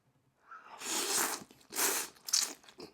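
Close, loud crunchy bites into spicy coconut laksa noodle soup: three chomping bursts over a few seconds, each a brief crackling crunch, with nothing else around them.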